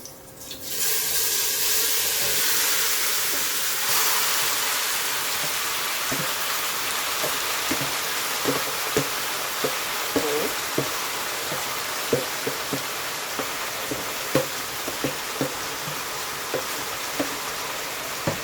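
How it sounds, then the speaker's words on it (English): Chicken for brown stew hits hot oil in a pot with a sudden loud hiss, then keeps sizzling steadily with crackling pops throughout, close up. "I'm just going to go ahead and pour my meat in my pot."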